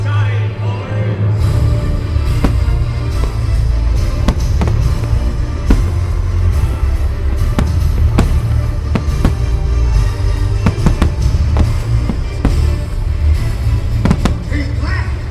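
Repeated loud cannon booms of a ship's broadside fired at a castle, each blast a sharp bang over a constant low rumble, spaced irregularly across the whole stretch with no speech.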